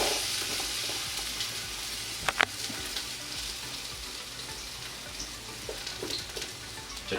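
Onions frying in hot oil in a pot, a steady broadband sizzle running throughout with a couple of sharper crackles and spits near the middle, close and fairly loud with no talking.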